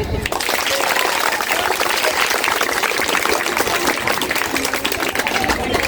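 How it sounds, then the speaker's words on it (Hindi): Loud, dense applause from a crowd at a school quiz competition, sustained clapping throughout with a noisy, hall-like wash. "पहले तो सभी के लिए तालियां।"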